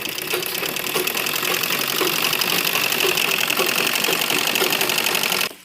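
A sewing machine runs continuously while stitching the crotch seam of a small child's Afghani salwar, a steady close mechanical whir and clatter that stops abruptly at the end.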